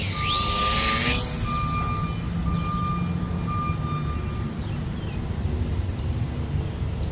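An RC T-28 Trojan model plane flies low over a park, its electric motor giving a steady loud whine that swells briefly near the start then holds as a constant drone.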